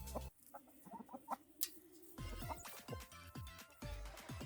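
Chickens clucking and squawking beside a herd of cattle on a farm, close and busy with repeated short calls over low background noise, no talk.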